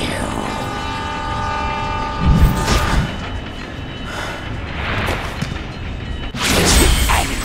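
In the video game Spider-Man: Shattered Dimensions, a train rushes past loud and close, a steady rumbling roar broken by heavy crashing impacts.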